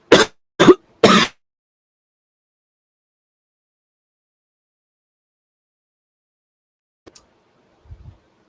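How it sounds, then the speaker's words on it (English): Three sharp throat clears in quick succession are followed by long silence, then a couple of faint small coughs near the end. "It's kind of like there's a hair in my throat and I can't cough it out"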